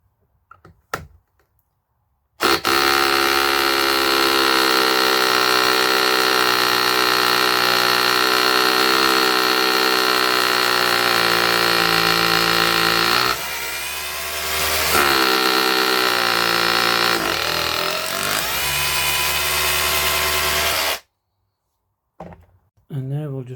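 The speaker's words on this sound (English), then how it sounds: "the same 5mm masonry bit into a paving brick" An SDS rotary hammer drill runs a 5mm masonry bit into a paving brick, giving a loud, steady hammering buzz for about eighteen seconds with a brief dip midway before it stops.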